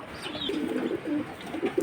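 Pigeons of high-flying breeds such as Gola and Chila kept at a home loft, cooing in low repeated burbles close by, under a steady background hiss.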